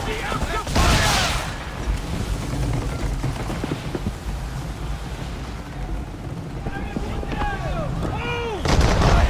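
Ship cannons fire in a naval battle in the video game Assassin's Creed 3: loud booming blasts at the start and end, with rumbling volleys and shouted voices between them.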